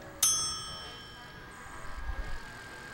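A doorbell chime rings once in a video game, a sharp bright ding with a lingering tone that fades under low background rumble and faint noise.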